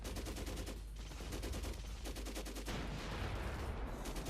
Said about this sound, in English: What the fuck are we shooting at?